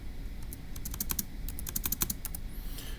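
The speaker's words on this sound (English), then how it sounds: "So let me just type it up here." Quick bursts of keystrokes on a computer keyboard while entering a puzzle answer, a rapid irregular clatter of close, crisp taps with short pauses, alone and without speech.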